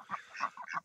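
Ducks on a farm park give a short burst of quacks, three or four rough nasal calls in under a second, fairly quiet and close.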